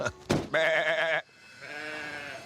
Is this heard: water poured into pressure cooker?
no